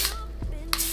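Wig seal spray hisses out in two short bursts, the second a bit louder, close by with a faint tonal hum in between.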